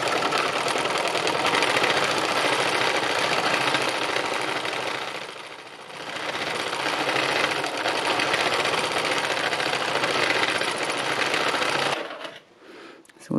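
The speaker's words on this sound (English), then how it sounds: "I'm just stitching to see how it feels" A sewing machine runs steadily while stitching fabric for sketchbook-inspired work, a loud continuous motor whir lasting about twelve seconds before it stops abruptly, leaving a brief quiet tail.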